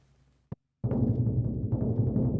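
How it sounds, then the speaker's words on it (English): Orchestral bass drum with a wooden shell and skin or plastic head played as a sustained roll, a continuous low rumbling thunder after a single short tap, steady and fairly loud without any voices. "We can also roll on the bass drum."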